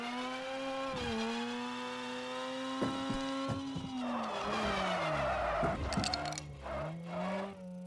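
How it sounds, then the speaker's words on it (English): A car oversteers with its tires skidding, a loud squealing whine with rising and falling pitch over the engine drone, followed by rough scrubbing noise and a few sharp knocks, no voices. "There I had a bit of oversteer."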